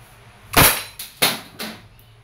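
Three sharp, close shots from an Umarex SA10 airgun pistol firing steel balls, each a crisp snapping crack with a short tail, spaced about half a second apart.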